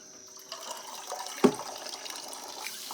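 Water and Pedialyte being poured into a dish for an injured animal, a soft indoor trickle with one brief louder splash or clink midway.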